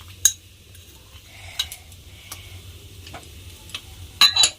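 Stirring nolen gur, date palm jaggery, into a cabbage mixture in a pan: scattered scraping and tapping of a utensil against metal over a low steady hum, with a louder clatter near the end.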